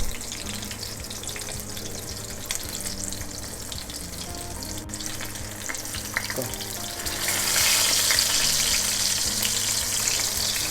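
Schnitzel fries in a pan with a steady, dense sizzle that swells louder near the end; no one speaks.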